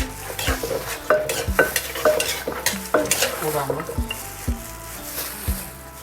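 Isan-style khanom jeen noodle salad with fermented fish sauce being mixed, with repeated sharp, close knocks and scrapes of a utensil against the bowl in an irregular rhythm, loud and without talk.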